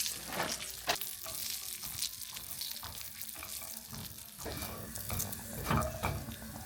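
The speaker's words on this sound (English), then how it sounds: "my butter is starting to brown a little bit" Butter browning in a pan produces a steady, close sizzle and crackle with a wet, watery texture, swelling in a few louder bursts.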